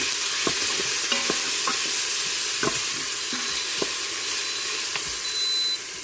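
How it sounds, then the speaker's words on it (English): Onions sauté in a hot Instant Pot on its normal sauté setting, making a steady loud sizzle with soft stirring scrapes and an occasional faint beep. "I'm going to saute some of those onions for now."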